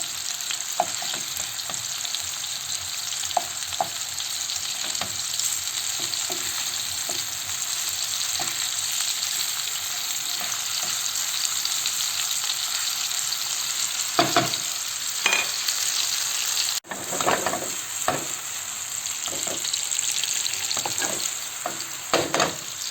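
Meatballs for eggplant İzmir köfte sizzle and fry steadily in a pan, with occasional stirring clatter and louder pops near the end, no talking.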